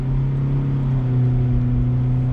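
A 2020 Honda Civic with a CVT pulls away from a dead stop under throttle, its engine giving a steady, close droning hum that rises only slightly in pitch and holds level rather than climbing through gear shifts.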